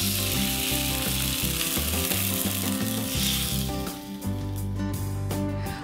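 Beef chuck and broth sizzle steadily in a skillet for a soup, a dense, loud frying hiss with faint stirring scrapes and no talking.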